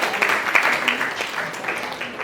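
An audience claps at a talk on raising children's service mindset, a brief patter of hands lasting a couple of seconds at moderate loudness.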